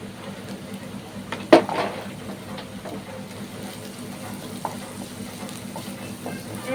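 Onions frying in a pan with ginger, garlic and green chili, a soft continuous sizzle beneath scraping stirs, with one sharp clatter of a spoon on the pan and lighter taps afterward, close and fairly quiet.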